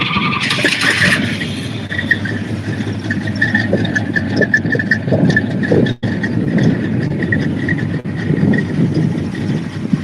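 A Pontiac GTO muscle car engine turns over and settles into a steady, rumbling idle outdoors, a continuous loud low drone that runs unbroken for about ten seconds with a brief dip partway.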